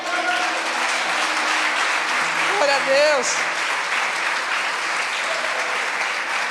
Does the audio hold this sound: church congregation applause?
yes